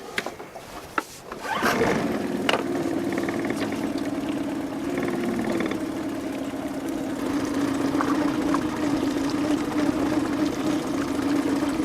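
Four-stroke outboard boat engine cranks briefly and fires, then settles into a steady, even idle that runs on continuously at close range.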